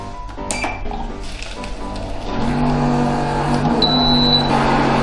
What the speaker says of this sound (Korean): 미리 설정한 버튼 1번 버튼을 눌러줍니다.